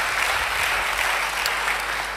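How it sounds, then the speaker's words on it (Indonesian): A church congregation applauds during an Indonesian worship service, with dense, even clapping filling the whole stretch at a steady loudness. "beri tepuk tangan bagi dia."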